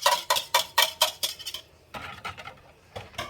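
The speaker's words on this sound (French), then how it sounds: "Et allez, encore de la vaisselle." Dishes and utensils clatter in a home kitchen during chocolate chip muffin baking, a quick run of sharp clinks and knocks followed by a quieter pause and a few more scattered rattles, with no talking.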